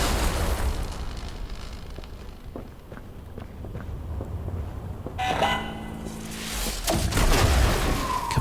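A loud explosion on a bridge in the video game The Entropy Centre, a sharp burst partway through that swells into rumbling debris and booms over steady game ambience and faint footstep-like thuds.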